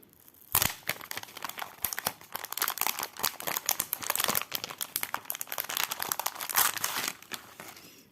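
Cross-stitch kit packaging is opened with close, loud plastic crinkling and crackling that runs steadily for several seconds, with a few sharper rustles and tearing-like bursts and no talking.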